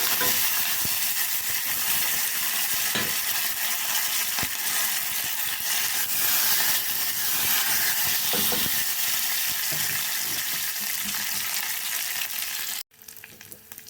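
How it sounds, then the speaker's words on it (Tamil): Mustard seeds spluttering in hot oil for a pumpkin green masala curry, a loud, steady crackling sizzle with scattered sharp pops that runs close and alone before cutting off abruptly near the end. "கடுகு நல்லா வெடித்த உடனே கடுகு நல்லா பொரிஞ்சிட்டு பாருங்கள்"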